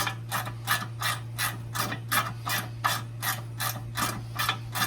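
A ratchet turns fine-threaded bolts on a Jeep JK Snyper rear fender flare, giving a quick, steady series of raspy clicking strokes over a low constant hum.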